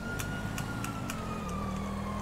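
Police car siren in the video game GTA Online, a steady wailing tone that slowly sweeps in pitch, moderately quiet under engine rumble with a few sharp clicks, and no talk.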